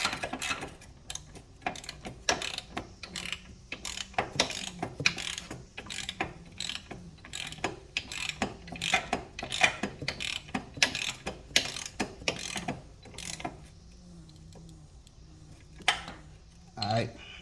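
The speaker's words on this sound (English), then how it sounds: "We're gonna get our T40 and we're gonna tighten this back up" A T40 Torx ratchet tightens a floorboard bolt on a Can-Am Ryker motorcycle, giving a close run of quick metallic clicks in short bursts, with a brief pause before a final few clicks.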